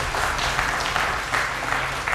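An audience applauds a contestant at a quiz show, a dense, steady burst of clapping heard up close throughout, with no one talking over it.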